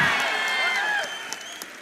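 Applause and cheering from the audience at a political rally swell loudly, then fade into a scattered patter of claps as a voice talks over the crowd.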